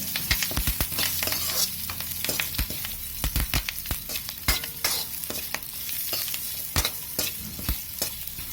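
Dried chillies and a sprig of curry leaves sautéing in a pan, a steady sizzle broken by sharp scraping stirs and clicks of the spatula, close and clear with no voices.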